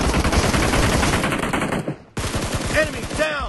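Rapid automatic gunfire from the mobile battle royale game PUBG Mobile, a dense sustained burst that cuts off abruptly, then resumes with sharper, spaced shots and ringing echoes.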